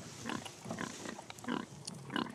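Free-range pigs in a farm shelter grunting close by, a run of short snuffling grunts in an uneven rhythm, fairly quiet with no voices.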